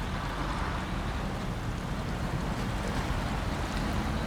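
Off-road truck ploughing through water in the video game SnowRunner, a steady loud wash of splashing and churning water mixed with engine rumble, continuous and close throughout with no talk.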